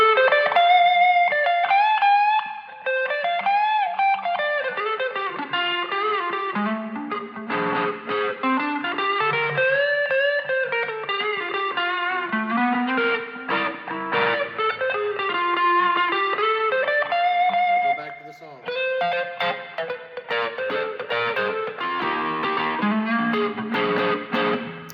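An electric guitar plays a lead through an EQ pedal, with bending, sliding melodic lines and a processed, slightly distorted tone, continuous and prominent throughout.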